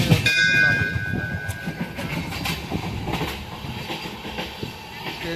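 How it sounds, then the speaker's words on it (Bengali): Slow-moving train rumbling steadily with low rolling noise and faint rail clatter, heard from on board, continuous and fairly loud throughout, with brief tonal squeals early on. "ট্রেনটা খুব স্লো চলছে"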